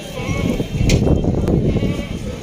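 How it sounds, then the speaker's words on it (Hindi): Goats bleating at a crowded livestock market where tired goats sit resting, a dense continuous din of animal calls and crowd murmur close by. "ये थके हुए हैं बकरे बैठे हुए हैं यहाँ पे"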